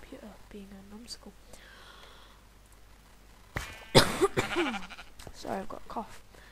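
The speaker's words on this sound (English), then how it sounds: "Sorry, I've got a cough." A quiet, breathy voice murmurs, then a sudden harsh cough bursts out, followed by a few rougher hacking sounds and a voiced tail.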